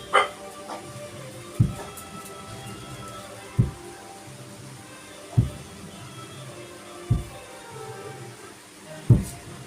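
A puppy gives six sharp, separate barks at steady intervals of about two seconds, over a quiet background.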